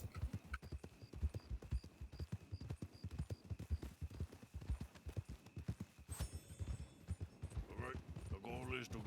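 Horses' hooves clip-clop steadily in a video game, a rapid rhythmic trotting close by. A faint tonal chime repeats in the background, and a voice speaks over the hoofbeats near the end.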